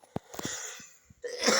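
Several short, dry coughs from a person who is ill, sounding close and fairly loud, with quieter breathy noise in between and a burst of rougher throat noise at the end.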